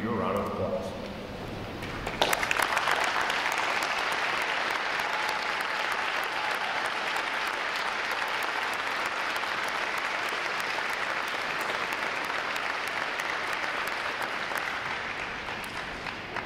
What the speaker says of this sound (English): Would all our veterans please rise so we can give you a round of applause.